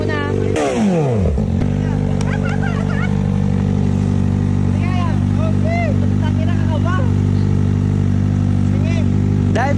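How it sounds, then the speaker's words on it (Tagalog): A big bike motorcycle engine runs loud and steady throughout, with a brief rev or gear change near the start, while higher whining tones and voices come and go over the constant low drone. "Papasubukan natin sa mga mangyan ng big bike ko."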